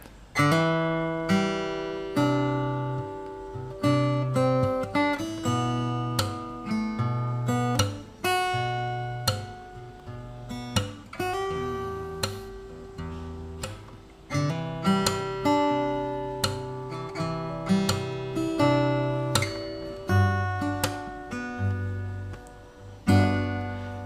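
Acoustic guitar with Handyoung strings fingerpicked alone, a steady run of plucked notes ringing and decaying one after another, close and clear.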